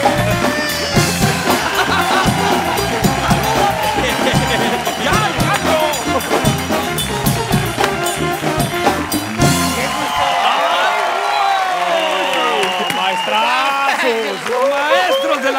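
A studio audience on the late-night talk show Noches con Platanito applauds and cheers as two comedians arrive. The steady, loud clapping runs throughout, mixed with music and voices.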